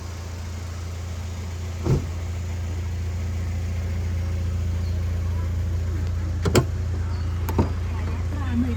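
Mitsubishi Space Wagon idling with a steady low engine hum throughout, car interior setting before a test drive, with a few brief clicks and thumps standing out over the constant drone.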